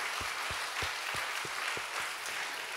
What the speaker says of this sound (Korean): 하나님께 박수로 영광